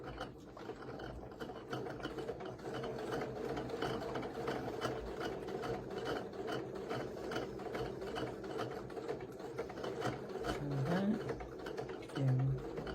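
A sewing machine runs steadily through fabric for a quilted cathedral windows block, with a continuous rhythmic whir and ticking of moderate loudness and a few brief higher tones near the end.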